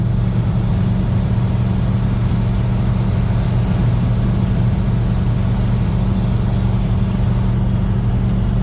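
A 1986 Ford F150 with a 351W V8, glass pack mufflers, long-tube headers and an X-pipe drones steadily while driving, a loud, continuous low rumble with no speech over it.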